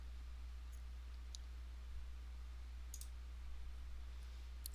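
Computer mouse clicks while closing an online quiz form: a few faint, sparse, sharp clicks over a steady low electrical hum, with no talking.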